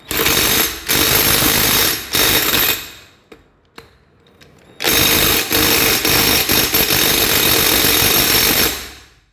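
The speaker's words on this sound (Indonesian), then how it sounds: "menggunakan impact saja ya, menggunakan impact" An impact wrench hammers loudly in two long bursts, tightening clutch housing bolts on a Mitsubishi Colt Diesel GL neotec truck, separated by a short quiet pause with faint clicks.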